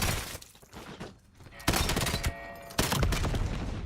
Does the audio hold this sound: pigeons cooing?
no